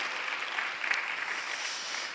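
A church congregation claps steadily for a couple of seconds, a dense, fairly distant patter of applause with no voices on top.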